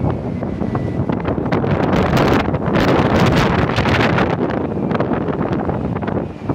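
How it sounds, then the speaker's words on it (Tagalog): Strong wind roars steadily across the microphone aboard a ship at sea, with rain, a loud, buffeting rush with gusts that swell and ease throughout. "Malakas na yung hangin, saka may ulan na rin."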